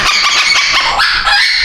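Pet parrot squawking loudly and shrilly while its nails are trimmed, one harsh, sustained close-up screech with no speech.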